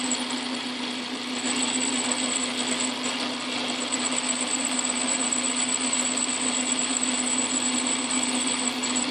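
A cut-off tool slices through the old axle of a 1967 Airstream Caravelle, giving a steady, close, high-pitched whine that holds unbroken throughout with no talking.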